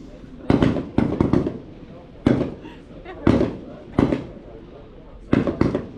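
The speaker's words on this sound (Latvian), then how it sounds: "Pirmā grupa sāk šaut." Rifle shots ring out at a field camp shooting range as a group fires, sharp cracks arriving singly and in quick pairs at irregular intervals, each followed by a short echoing tail, loud and fairly near.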